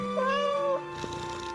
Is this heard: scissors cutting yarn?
no